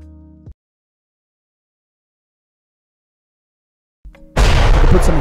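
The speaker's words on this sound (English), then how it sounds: "if you could put some explosions there" Loud explosion sound effect dropped into a gaming Q&A: a sudden broadband blast arrives near the end, following a brief low tone and a long stretch of silence, and stays dense and roaring through the last second.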